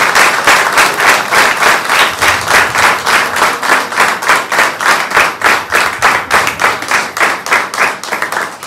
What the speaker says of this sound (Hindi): प्रभु की महिमा जोर से ताली बजाएं।